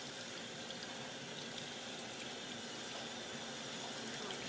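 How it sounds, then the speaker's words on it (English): Cold tap water runs steadily over split peas being rinsed for split pea and ham soup, a continuous soft hiss and splash with no break. "So we're just going to run some cold water over them."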